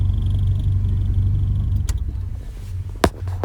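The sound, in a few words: car engine running after carburetor to EFI conversion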